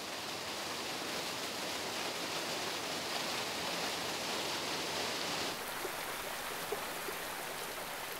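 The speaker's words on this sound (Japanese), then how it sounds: "突然大量の水が流れ落ちる滝のような場所が姿を現しましたムーランと呼ばれる縦穴です" Summer meltwater on Perito Moreno glacier in Patagonia plunging down a moulin, a vertical shaft in the ice: continuous rushing and gurgling water, fairly faint and distant, with a slight shift in tone past the midpoint.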